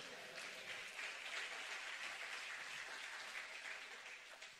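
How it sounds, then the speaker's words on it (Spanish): A church congregation applauds during a Sunday service, a steady wash of many hands clapping at moderate distance, sustained evenly for a few seconds before easing slightly at the end. "Dar un aplauso al Señor."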